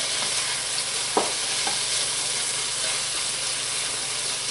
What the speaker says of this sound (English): When that grease gets nice and thick, then it'll cook the bacon.